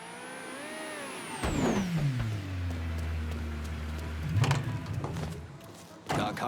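In the video game Mafia 3, a car pulls up with a rising engine rev and settles into a low idle, then a clunk of a door, and another thud at the end, with background tones underneath.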